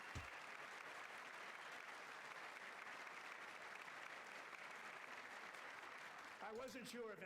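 Legislators applauding in the chamber during a State of the Union address, a sustained wash of clapping from many hands, fairly faint and distant, that continues evenly and then breaks off as voices rise near the end.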